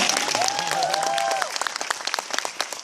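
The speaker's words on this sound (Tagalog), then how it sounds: "tuloy nyo po muna yung palakpak nyo" Audience at a seminar gives a burst of dense applause with many overlapping claps, loud and close at first, thinning toward the end; a sustained tonal whistle-like sound rides over the early part.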